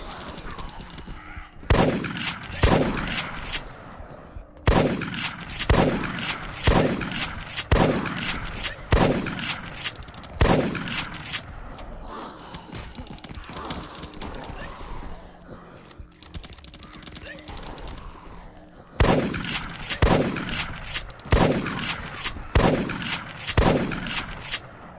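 Repeated bursts of gunfire in The Last Stand: Union City, a zombie-survival video game, sharp shots coming in clusters through most of the stretch with a brief lull in the middle, loud and close.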